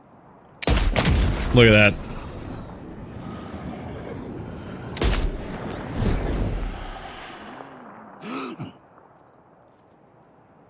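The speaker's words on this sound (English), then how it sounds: "I'm crazy with the sniper rifle" Sniper rifle shots in Death Stranding 2 ring out as a few sharp, loud cracks spread across several seconds, each with a short decaying tail, and a voice speaks briefly between them.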